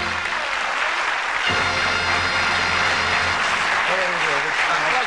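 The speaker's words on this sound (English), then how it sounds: "A nice warm round of applause" A TV game show studio audience applauds loudly and steadily throughout, with other sounds faintly beneath the clapping.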